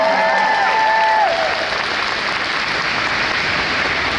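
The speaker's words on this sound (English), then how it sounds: "Round of applause for you guys." Loud, dense applause from a fan convention crowd, continuous throughout, with a brief voice fading out at the start before the clapping carries on alone.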